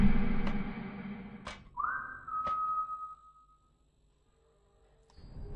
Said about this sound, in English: Someone just whistled at me.